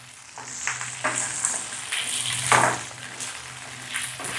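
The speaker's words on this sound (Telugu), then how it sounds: "ఈ పల్లీలు అనేవి వేగుతూనే ఉంటాయి కదక్క" Peanuts fry in hot oil in a pan for a pickle tempering, a close, steady sizzle broken by occasional stirring scrapes and louder crackling bursts.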